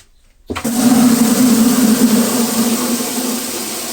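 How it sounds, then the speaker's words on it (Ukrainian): Water rushes steadily into glass jars set in a homemade boiling vat for canning stew, starting abruptly after a brief silence and pouring loud and close without pause. "Тепер ці банки ми будемо заливати водою."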